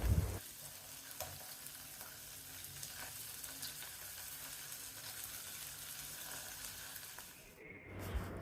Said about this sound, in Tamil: தக்காளி பட்டாணி சேர்த்து 2 நிமிஷம் வரைக்கும் வதக்கிட்டு